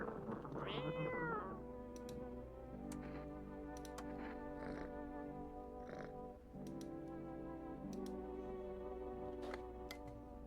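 A cat meows in a video game, with a clear rising cry near the start and softer mews over a steady bed of game music and ambience.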